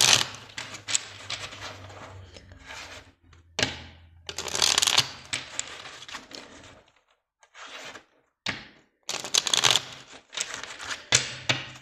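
A small oracle card deck being shuffled by hand, giving bursts of crisp riffling and flicking that come and go with short pauses, fairly close and with no talking.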